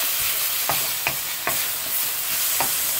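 Onions stir-frying for British Cantonese restaurant-style chicken fried rice: a steady, loud sizzle runs throughout, broken by several sharp scrapes and clanks of stirring at irregular intervals, with no talking.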